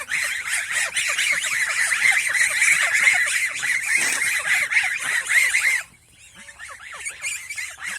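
Farm ducks kept beside a water hyacinth pond keep up a dense, continuous chorus of squeaky quacks and chatter, close and loud, before the noise drops off abruptly near the end.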